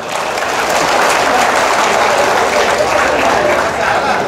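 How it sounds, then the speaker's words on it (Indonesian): Sustained audience applause, loud and even, a crowd clapping steadily throughout for a speaker at an ustaz's talk. "Kalau hebat, bagi satu tepukan untuk hamba."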